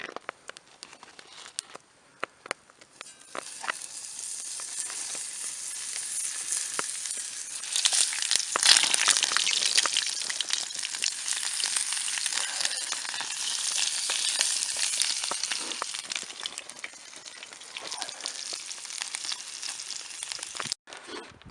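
Beef ribs and pepper cook over a campfire in extreme winter cold, giving a steady, close sizzle and crackle with scattered pops and patters that swell midway and carry on for about twenty seconds.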